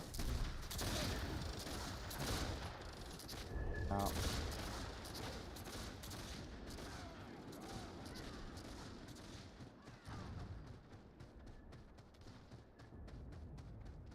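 Dense, continuous gunfire crackles from units shooting in a video game battle among roaming warbands, loud and sustained with overlapping volleys, while a man briefly exclaims.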